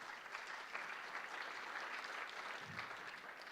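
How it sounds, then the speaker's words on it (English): Steady applause from an audience at an investment firm's annual gathering, greeting a supervisory board member as he stands; even, continuous clapping filling the room without a pause. "Maybe a quick round of applause there."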